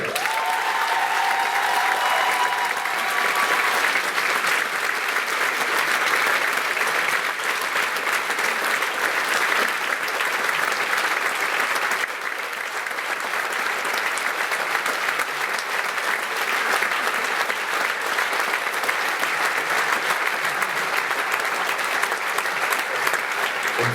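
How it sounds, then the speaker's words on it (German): A large audience at a school graduating-class variety show claps long and loud, a continuous dense roar of applause lasting over twenty minutes-like stretch, with a brief dip midway before building again. "Einen riesigen Applaus"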